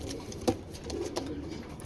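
A racing pigeon cooing softly in a loft, a few short low coos over a faint background, with one brief sharper sound near the start.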